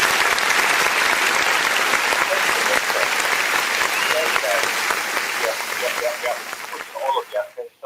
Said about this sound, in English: just give yourself a round of applause because you deserve all the accolades